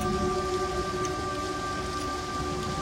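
Steady, monotonous heavy rain during a night storm in Kolkata, an even unbroken wash of drops at constant loudness throughout with no voices.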